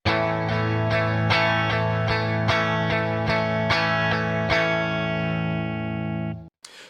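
A slightly distorted guitar strums a steady chord, with regular strokes and some beats hit harder than others, before cutting off abruptly.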